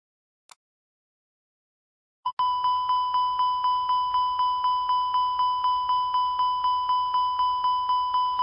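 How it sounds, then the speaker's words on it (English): An Airbus ECAM master warning sounds as a continuous repetitive chime, a bright electronic tone repeating rapidly and evenly after a brief click, loud and alone without any voices. "You hear a continuous, repetitive chime and see the master warning lights flashing."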